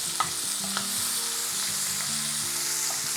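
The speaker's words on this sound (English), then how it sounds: "you really want this on high heat because what you're doing is blistering" Shishito and padron peppers blister in a pan over high heat with a constant, bright sizzle, broken now and then by light stirring clicks, close by and with nobody talking.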